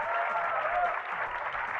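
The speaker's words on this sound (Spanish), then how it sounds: "Quiero un aplauso hoy de verdad para las tres bandas que participaron el día de hoy." Crowd applause for the bands at a live music competition in the Soy Luna series, a dense, steady burst of clapping, fairly loud and close, with no gaps.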